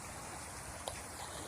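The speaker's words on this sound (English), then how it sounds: "there was like this little mini waterfall-y type of thing" A small waterfall on a stream beside a walking trail gives off a steady, broad rushing wash, even and unbroken, with a faint click partway through.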